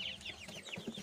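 A hen taken off her broody nest on a small farm clucks steadily in a quick, close, fairly loud series of calls, with no talking over it.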